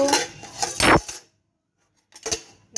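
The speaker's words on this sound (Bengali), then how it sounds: "দেখাতে গেলাম আর গেল চামচটা পড়ে" A metal spoon drops in a home kitchen beside freshly cooked dishes, giving a bright clatter and ringing clinks that fade into near silence, then a short second clink follows.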